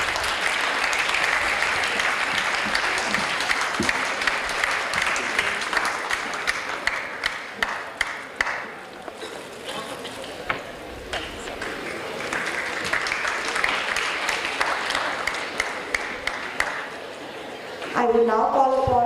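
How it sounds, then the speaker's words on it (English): Audience at an architecture college panel discussion gives a long, steady round of applause with dense clapping for about eighteen seconds, then a voice begins speaking as it dies away. "Can we have a round of applause, please?"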